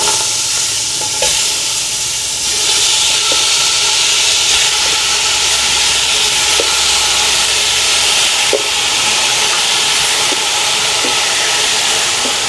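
Chicken fries and sizzles in a pan for ginisang monggo, a loud, steady hiss with occasional crackles and soft clicks, no one talking.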